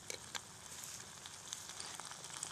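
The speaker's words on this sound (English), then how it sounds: "Once you hear it sizzling like that, you can just start pouring off some more fat." Faint, steady crackling sizzle of animal fat rendering into tallow in a pan, with soft pops scattered throughout, no voices.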